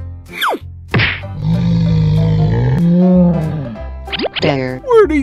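A loud, cartoonish bear roar swells and fades between short playful effect sounds and quick exclamations from a voice.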